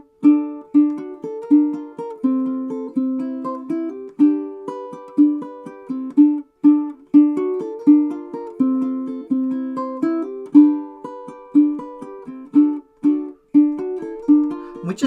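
A fingerstyle ukulele plays the bridge of a song alone, with crisp plucked notes and chords in a steady repeating rhythm, close and clear.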